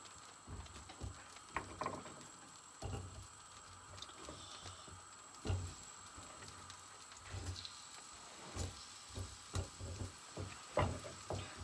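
Persimmons sizzle and crackle while frying together in a large pan, a steady popping spatter with irregular louder ticks and clatters running throughout.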